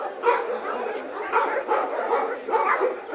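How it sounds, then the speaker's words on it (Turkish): Street dogs attacking a schoolgirl outside an apartment building give off a rapid, rough run of barking and yelping, recorded from a distance by a security camera and loud throughout the stretch. "okula giden bir kız öğrenci köpeklerin saldırısına uğramıştı"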